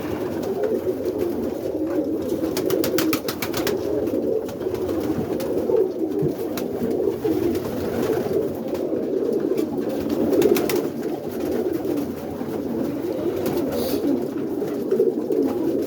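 Birmingham roller pigeons coo in a loft, soft overlapping low calls that repeat steadily and close by, with occasional flutters and rustles.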